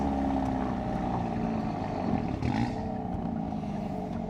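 A car engine fitted with a Whoosh downpipe rumbles close by with a deep, throaty exhaust, rising slightly in a gentle rev before settling back.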